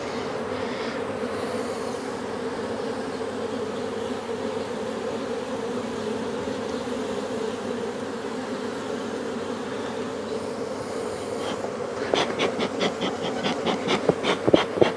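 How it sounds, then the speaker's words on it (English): Honey bees buzz steadily around a beehive, a dense continuous drone close by, with sharper wingbeat pulses and bees zipping past the mic toward the end. "Lots of bees out front now, just wondering what the hell's going on."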